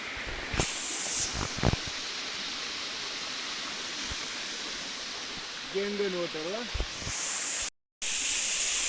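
A waterfall fed by a stream makes a constant, dense rushing hiss close by, with brief voices and a few short knocks rising above it.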